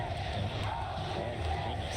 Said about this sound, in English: Crowd showing up in full force here in the arena in Vancouver, Canada.